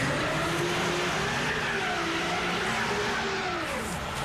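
Car engine revving steadily while the wheels spin in place, stuck in snow or mud, with a continuous straining drone and rising and falling pitch throughout.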